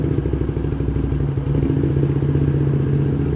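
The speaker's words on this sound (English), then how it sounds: "there's a motorcycle" A motorcycle engine drones steadily close by, a throbbing low rumble with rattling clatter running the whole time as it passes, with no talk over it.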